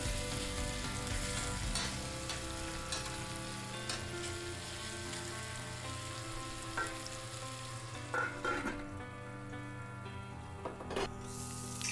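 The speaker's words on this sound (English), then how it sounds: "just dump the entire contents of that bowl into the pan, spread it out a bit. This entire meal is done over medium heat." Spare ribs and green beans frying in a pan over medium heat, giving a continuous close sizzle with occasional stirring clinks and no talking.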